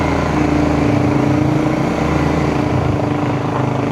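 A loud Rusi motorcycle engine drones steadily up close, its exhaust submerged in knee-deep night flood water in San Fernando, Pampanga, the even rumble mixed with sloshing water noise, with no talking.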